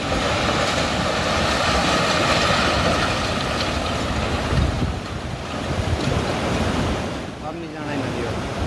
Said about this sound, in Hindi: बादल फटने से अचानक पानी तेज बहाव के साथ घाटी में बहने लगा।